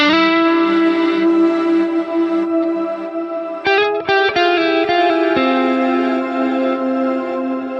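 Electric guitar played through a Quad Cortex with reverse delay and reverb engaged, sustained chords swelling and washing backward, with a few quick plucked notes midway, loud and alone.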